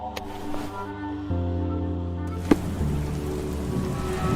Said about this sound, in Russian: тут дождь идет.